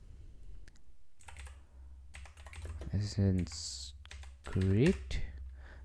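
Quick clicks and taps of typing on a computer keyboard come in short bursts at close range, alternating with someone talking.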